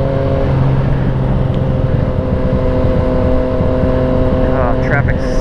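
A Yamaha FZ-09 motorcycle with an Arrow exhaust and the dB killer removed drones steadily while riding, a constant loud engine note mixed with heavy wind rush and a brief gear change near the end.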